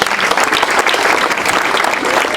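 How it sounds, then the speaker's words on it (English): Steady applause from an audience welcoming a guest speaker, a conservation colleague, at an environmental awareness event at a giraffe centre, dense and continuous clapping throughout with no one speaking. "You must give a clap to Ms. Sarah."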